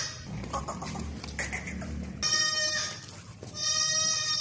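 A large long-eared village dairy goat stands still while her kid drinks milk from her, with soft rustling and movement close by, then bright bleating and clucking from nearby farm animals.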